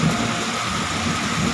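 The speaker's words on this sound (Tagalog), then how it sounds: "umuulan at malakas din ito" Heavy rain in a Philippine street, heard from shelter under a shop awning, roars down in a dense continuous wash with low rumbling underneath, loud and unbroken with no voices.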